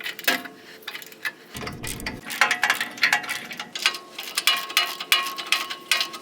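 A large breaker bar working a corroded bolt loose on a boat trailer axle: a close series of sharp metallic clicks, ticks and clanks in an irregular rhythm, with no talking.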